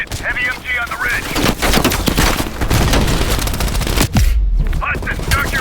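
Heavy machine gun fire rattles in rapid sustained bursts during a Call of Duty Black Ops Cold War battle, loud and close, with booming impacts and voices speaking over the gunfire.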